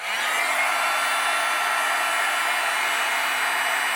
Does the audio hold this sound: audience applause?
no